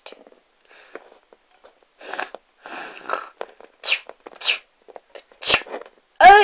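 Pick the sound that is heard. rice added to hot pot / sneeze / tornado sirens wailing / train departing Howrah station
sneeze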